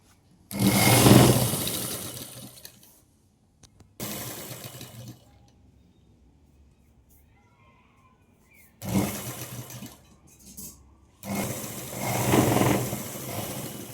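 A sewing machine stitching a folded pant hem runs in four loud, close bursts separated by quiet pauses.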